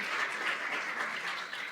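An audience at a college state-of-the-college address breaks into applause, a continuous, even patter of many hands clapping in a hall.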